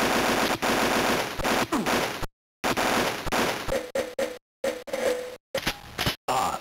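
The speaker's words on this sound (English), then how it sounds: "An auto rifle." Automatic rifle fire in the Army Men video game: loud rapid bursts of gunshots repeated over several seconds, broken by brief silent gaps between volleys.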